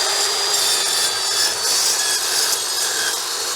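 A saw blade cuts through wood embedded with nails and screws, including a large quarter-inch GRK screw, giving a steady, loud, gritty rasping grind that runs continuously without pause.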